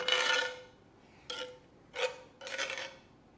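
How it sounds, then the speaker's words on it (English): Back of a spoon pushing melted chocolate across a homemade Hobnob biscuit, giving a dry rasping scrape followed by three shorter strokes, close and fairly quiet with no talk. "Use the back of the spoon just to push it, okay?"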